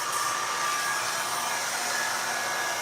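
A handheld blow dryer runs steadily while drying hair, a loud, constant whooshing whine with no breaks, heard close up.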